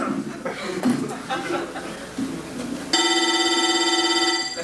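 A telephone rings with a steady electronic trill, starting after a few seconds of people talking and laughing, then continuing alone and fairly loud.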